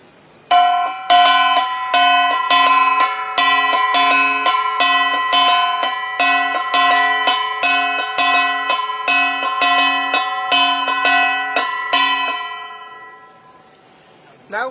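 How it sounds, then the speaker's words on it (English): Cordillera gongs struck in a steady interlocking beat, bright ringing metallic hits repeating evenly for about twelve seconds before the tone fades, loud and close with no voices. "And now for the third gong, it also follows the beat of the first and the second gongs."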